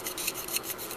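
A blade scraping an oboe reed down the channels, a rapid run of short rasping strokes close up and fairly loud, with no talk.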